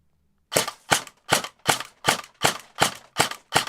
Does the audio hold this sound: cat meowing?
no